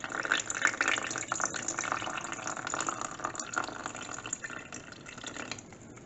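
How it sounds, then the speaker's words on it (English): Half a cup of ice-cold water is poured into batter for Korean-style crispy fried chicken, a steady, fairly quiet liquid stream lasting several seconds with no talking. "we'll have a half a cup of ice cold water"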